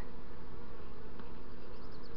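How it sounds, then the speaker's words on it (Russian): Honey bees, some carrying green pollen loads, swarm at the hive entrance, producing a dense, continuous close-up buzz that holds steady throughout with no voices. "Какие-то с зеленой обножкой пчелы летят."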